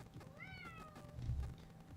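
A cat meows loudly and close during a drawing livestream, a single drawn-out call with a rising then falling pitch, followed by a low thump.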